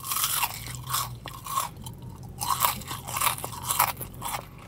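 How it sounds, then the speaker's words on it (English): Close, crisp crunching as someone chews Jack in the Box seasoned curly fries, repeated bites and chews with no talking. "these curly fries, they're curly and crispy and crunchy"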